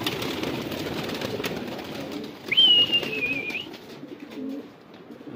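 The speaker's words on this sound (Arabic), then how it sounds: "شباب الحمام طلعناه من جديد" Pigeons coo softly over a steady outdoor background murmur, and a brief high whistle-like tone is heard partway through.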